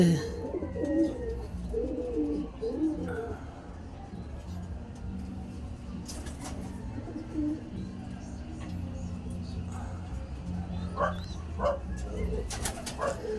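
Racing pigeons cooing softly nearby at a derby race in Candon, Ilocos Sur, amid outdoor background noise, with occasional clatters and a dog barking faintly; people talk intermittently.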